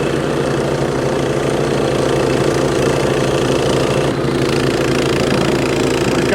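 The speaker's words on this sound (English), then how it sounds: "There it is at the end of the driveway, still running." A Briggs and Stratton snow blower engine runs steadily at the end of a snowy driveway, a loud, close, continuous drone with a brief dip partway through and no talk.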